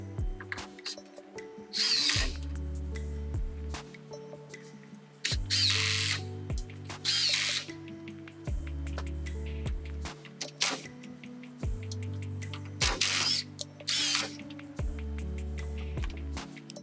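A power drill drives 3.5-inch screws into a wooden solar array frame, with repeated whirring bursts of a few seconds each separated by short pauses, close and steady.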